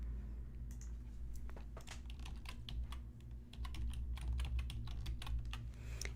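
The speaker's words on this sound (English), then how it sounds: "And I think my keyboard has died. Nope, it's working a little bit." Rapid, irregular clicking of keys being typed on a computer keyboard, soft and close against a low steady hum.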